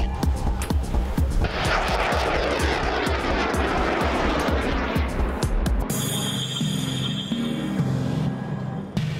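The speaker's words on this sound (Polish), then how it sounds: "Zaraz powinny nastąpić start rakiet." Rocket salvo launched by a military artillery battery at a training range, a dense, loud roaring blast sustained for several seconds before cutting to a lower steady engine rumble.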